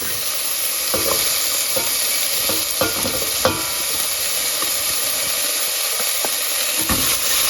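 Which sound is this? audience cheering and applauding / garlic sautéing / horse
garlic sautéing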